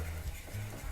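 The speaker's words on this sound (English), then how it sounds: "I swapped my fork out for a whisk and started whisking like my life depended on it." Egg yolks being whisked by hand in a bowl, a fast steady scraping and stirring with a low rumble underneath, close and continuous for the whole moment with no talking.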